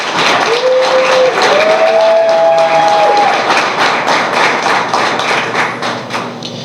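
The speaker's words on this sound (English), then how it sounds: "can you all please give these 2 young scholars a round of applause?" A crowd applauds two young scholars at a school sports signing ceremony, with loud, fairly close clapping and thumping throughout and a brief whistle-like tone early on, the clapping easing slightly toward the end.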